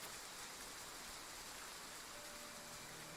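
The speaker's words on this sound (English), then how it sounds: "Rain! Honest to goodness, rain!" Steady rain falls in the Triangle Strategy video game, a soft, even wash of hiss with no voices, quiet and unbroken from start to finish.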